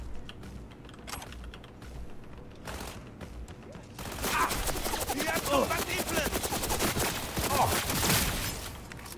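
Rapid automatic gunfire from the Cyberpunk 2077 video game, sparse shots at first, then a dense, loud, sustained burst of rattling fire with clattering effects filling the second half.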